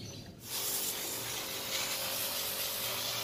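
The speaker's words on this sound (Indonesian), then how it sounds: "Kita semprot lagi sampai benar-benar bersih." A strong, continuous hiss of water spray sounds as an indoor air conditioner unit is washed clean. It starts after a brief quieter moment and then holds steady and close.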